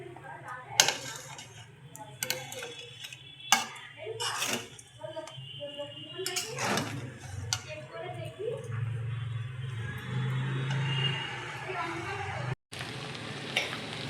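Fried rice sizzles in a pan while a utensil stirs and scrapes it, with soft clinks and a steady frying hiss under a voice speaking close by for much of the time.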